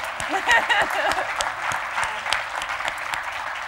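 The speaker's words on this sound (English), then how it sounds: "Can we give him a round of applause?" Lively audience applause at a talk on farming and racism, a room full of scattered claps mixed with cheers and voices, moderately loud and continuous throughout.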